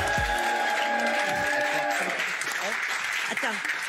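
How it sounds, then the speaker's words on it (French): Audience applause at a live comedy show welcoming the comic character Mado la Niçoise, a steady dense clatter of clapping running throughout while a voice speaks over it near the start. "Applaudissements pour elle."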